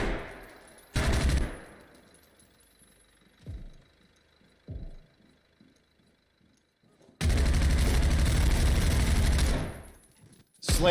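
Loud bursts of automatic gunfire from an ES-36 rifle in a competitive Zero Hour tactical shooter match: a short burst near the start, a few isolated shots in the middle, then a long sustained volley of several seconds.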